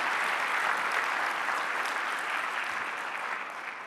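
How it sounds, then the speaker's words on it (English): A crowd at a product launch event claps in a steady, even wash of applause that holds throughout and begins to taper slightly toward the end. "Give them a round of applause for doing that."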